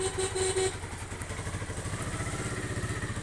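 An old 1990s Honda Sonic motorcycle engine idles with a quick, steady, close-up putter, and a clatter and a thump come near the start.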